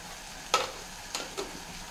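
A spoon stirs a brinjal and peas curry in a pan, giving three soft scraping strokes over a low sizzle.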